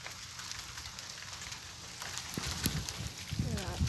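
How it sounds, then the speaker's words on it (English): Hail falling during an April hailstorm, small stones bouncing everywhere, including indoors, as a crackling patter that grows denser with sharp ticks and thuds toward the end. "You can definitely tell this is hail."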